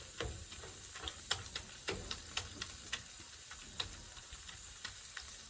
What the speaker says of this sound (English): Browning up the meat.